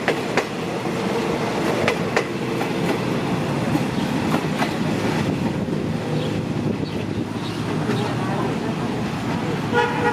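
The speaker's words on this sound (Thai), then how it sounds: "เร่งเครื่องพร้อมควันครับ" An Alsthom diesel locomotive engine on a Thai passenger train rumbles and revs steadily as it accelerates, with rail clatter and a short horn toot, while someone talks over it.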